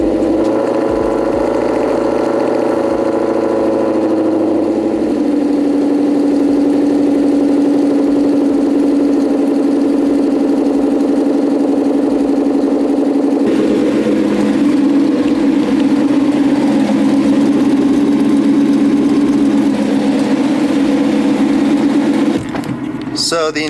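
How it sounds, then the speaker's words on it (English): Ford Mustang engine on a cold day, catching on a cold start and settling into a steady, loud idle that shifts pitch midway and runs on until a brief clatter at the end. "So let me go ahead and just start it up, show you guys what I'm talking about. It also gives you a good excuse because this will be a cold start."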